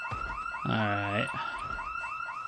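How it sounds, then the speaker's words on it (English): Looping wail of a car alarm in a zombie survival game, cycling repeatedly and loudly, briefly overlapped by a short buzzy honk-like tone in the middle. "the alarm went off"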